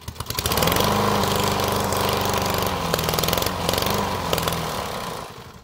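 A Honda OHV 150 cc lawn mower engine, modified, runs loud and close with a steady, buzzing drone and a few small rises and dips in pitch, no voices over it.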